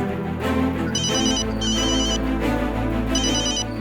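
A telephone rings loudly with a repeating electronic ringtone, bursts of trilling tones recurring over a steady backing in an indoor domestic scene from a Hindi crime drama, with no talk over it.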